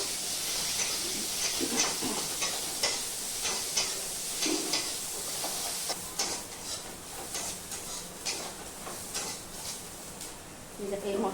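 Chopped onions frying in a pan while making aloo paratha, giving a steady faint hiss and sizzle throughout, with occasional soft clicks and stirring clatters over the top.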